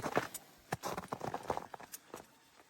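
Hooves of a mare clop faintly on a hard surface in an uneven, shuffling rhythm, several quick knocks close together.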